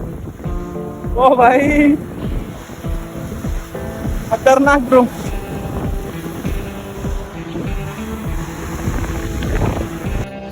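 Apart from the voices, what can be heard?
big ocean waves breaking on the beach in Chennai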